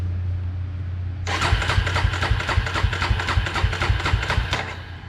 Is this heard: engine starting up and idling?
yes